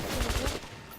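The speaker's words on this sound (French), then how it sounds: "Quand tu tires, il y a beaucoup de rafales d'armes." Gunfire bursts from a weapon in the video game Metro 2033 Redux, a quick run of close, loud shots in rapid rhythm that fades out after about half a second.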